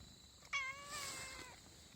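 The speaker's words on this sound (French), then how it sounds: "ça devait être des chats sauvages." A feral cat gives a single drawn-out meow lasting about a second, fairly close and clear over a quiet outdoor background.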